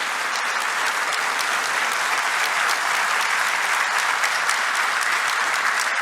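Steady, full round of applause from a large audience at a Brazilian government ceremony, dense even clapping holding constant throughout.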